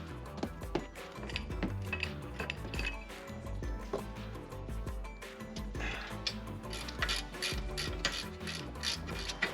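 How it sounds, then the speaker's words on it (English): A wrench ratchets and clinks while the caliper bracket's two 15 mm bolts come off the rear suspension of a 2000 Mercury Sable. The metallic clicking and clatter are dense and continuous, close up, with no speech. "we're going to go ahead and remove our caliper bracket. There's two 15 millimeter bolts here."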